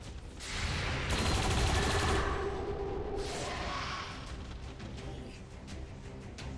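Sustained burst of automatic gunfire and explosions in the turn-based strategy video game XCOM 2, loud and dense, with a second heavy volley midway and rattling shots trailing off.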